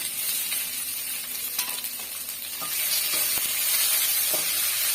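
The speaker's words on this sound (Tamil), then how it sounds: "பாருங்கள் வெங்காயம் ஓரளவுக்கு நல்லா வதங்கி வந்துடுச்சு" Onions and a large cut tomato sautéing in a pan, a steady close hiss and sizzle with faint stirring scrapes and small crackles, continuous and without talk.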